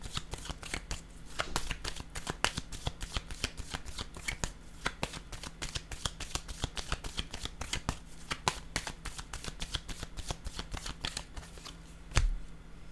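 A deck of playing cards being shuffled, a steady stream of crisp, close clicks and snaps in quick uneven rhythm, running continuously with a faint hum underneath.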